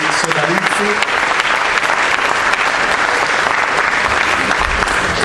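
Theatre audience applauding at a live concert at the Teatro Comunale in Lonigo, a dense, steady wash of clapping that fills the room for the full stretch, loud and continuous with a few faint voices mixed in.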